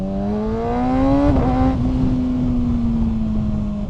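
A Kawasaki ZX6R sport bike engine revs loud and close, its pitch climbing steadily, then dropping sharply as it shifts and settling into a steady, slightly falling drone.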